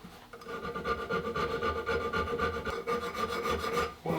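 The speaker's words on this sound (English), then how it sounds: "When I draw file, I like to use a really small file." A small file is drawn steadily across the metal receiver of a Model 1915 rifle being polished for restoration, a continuous close rasping scrape through most of the stretch that breaks off near the end.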